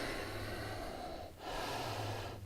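Breath during a yoga forward fold, a steady near breathy exhale through the nose and mouth with a short dip midway, quiet and alone.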